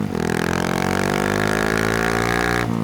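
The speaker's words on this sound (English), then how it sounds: "my Yoshimura exhaust sounds great when I bring it down a gear like that" A Honda Monkey motorcycle fitted with a Yoshimura exhaust downshifts, its engine note loud and close with a steady, throbbing rasp and harmonics that shift as it drops a gear.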